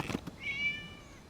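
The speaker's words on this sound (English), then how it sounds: "It was just a cat." Cat meowing in the video game Genshin Impact: a single short, close meow rising and then falling in pitch, heard alone after a couple of brief soft knocks.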